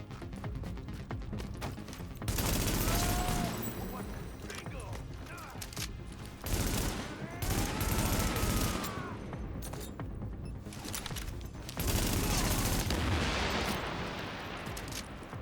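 Combat gunfire in the shooter game The Division comes in dense, loud bursts of rapid shots separated by short lulls, sustained across the whole stretch.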